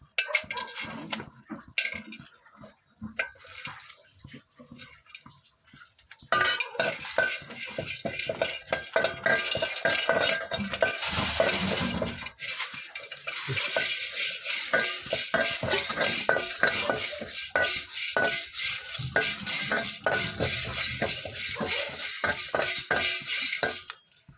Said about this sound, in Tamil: இதை நல்லா மிதமான சூட்லேயே வறுத்தெடுக்கணும், கறியை விட்டுறக்கூடாது.